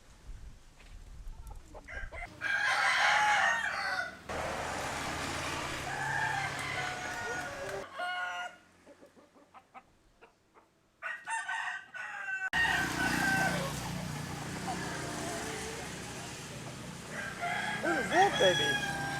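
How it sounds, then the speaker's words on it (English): A rooster crows several times outdoors, loud and fairly near, with quiet gaps and some soft talk between the calls. "It's a rooster."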